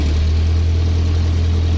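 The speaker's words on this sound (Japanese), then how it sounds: "少しアクセル離したりするとアイドリング不安定で" A Nissan S110 Gazelle engine idles alone at close range, a steady low rumble with a slightly uneven pulse, the old car still under adjustment after initially refusing to start.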